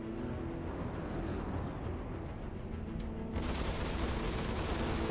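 Rapid sustained gunfire from spaceship guns in the video game Star Citizen, a continuous dense roar of shots that grows louder and harsher partway through, with no talking.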